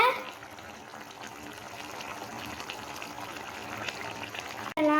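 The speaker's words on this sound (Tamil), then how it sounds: "½ கிளாஸ் தண்ணி ஊற்றி சால்ட்டை செக் பண்ணிக்கோங்க" Half a glass of water is poured into a pan of pepper chicken fry as it cooks, giving a steady gushing splash that ends with a brief cut.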